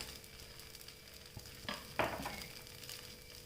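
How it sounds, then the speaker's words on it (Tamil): Black kavuni rice dosa batter, spread thin with a little oil, cooks on a pan with a quiet, faint sizzle, broken by a couple of soft scraping or tapping sounds, with no voices. "இப்போ கவுனி அரிசி தோசை மாவு ஒரு கரண்டி எடுத்து அப்படியே நல்லா பரப்பி விட்டுறலாம். கொஞ்சமாக எண்ணெய் ஊற்றிக்கலாம்."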